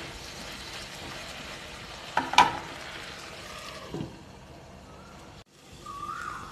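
Mixed vegetables for Bengali shukto cook in a covered pan, giving a low, steady sizzle and hiss, broken by a sharp metallic clatter of the lid near the start.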